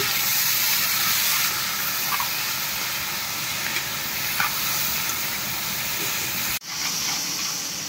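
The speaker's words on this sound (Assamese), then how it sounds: "বিলাহী পুৰা ভাজি আছো" Tomatoes frying in a pan, a loud continuous hissing sizzle with light stirring scrapes and a brief dip near the end, no talking.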